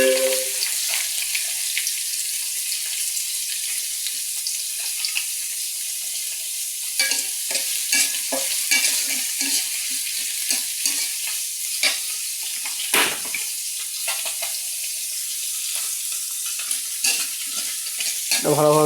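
Chopped onion frying in hot oil with bay leaf and cloves on a village kitchen stove, a continuous bright sizzle broken by repeated scraping stirs of a spatula, close and with no voices.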